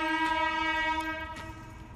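At night near a railway station, a passing train sounds a steady, tonal horn that holds for about a second and a half over a low rumble, then fades.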